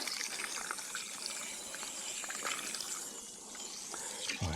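Water splashed onto a board during garden building work, a steady close trickling and splashing wash that runs continuously with no talk.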